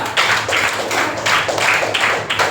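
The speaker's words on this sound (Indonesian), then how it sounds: "Bagus, tepuk tangan untuk kelompok 2." Schoolchildren in a classroom clapping for a group after its presentation during peer teaching, a loud close burst of hand claps in uneven rhythmic pulses, with no talk.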